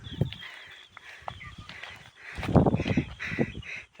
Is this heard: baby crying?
no